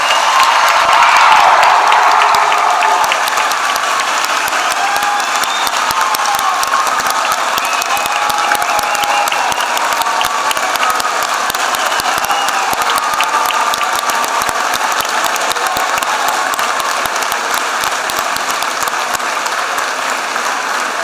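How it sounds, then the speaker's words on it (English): A large crowd at a spring commencement ceremony applauds graduates with sustained, dense clapping that runs steadily throughout, loudest at the start and holding at an even level. "well-deserved round of applause."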